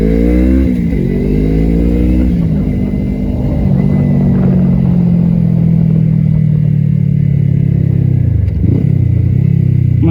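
A Kawasaki ZX-25RR motorcycle on a street in Japan gives a loud, close engine roar that climbs in pitch as it revs, then settles into a steady heavy drone, with a brief second surge near the end.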